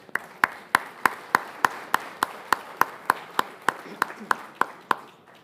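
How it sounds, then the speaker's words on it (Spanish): Applause from an audience at a Latin American conference, with a prominent nearby pair of hands clapping in a steady, even rhythm over softer background clapping for about five seconds. "Este aplauso es para usted."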